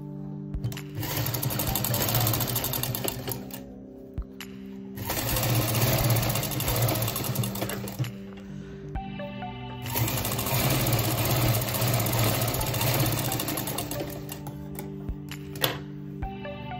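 A sewing machine stitches a strip onto a baby bonnet in three long, steady runs of rapid mechanical whirring, separated by short pauses, loud and close with no talk.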